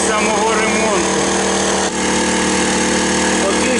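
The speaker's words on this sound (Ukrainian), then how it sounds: "Пішло навантаження і зараз побачимо, чи виживе цей генератор." Weekender 3500i inverter generator runs under electrical load, a dense, steady mechanical drone with tonal harmonics that stays loud throughout, with someone talking over it.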